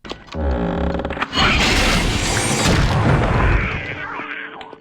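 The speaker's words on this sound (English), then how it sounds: "The first new weapon you get is a Flintlock Pistol, and let me tell you, it's probably the most satisfying weapon in any game ever." A flintlock pistol fires in the horror video game Nosferatu: The Wrath of Malachi, a loud booming gunshot with a long rumbling tail that fills the moment, followed by a second heavy blast and roaring reverberation.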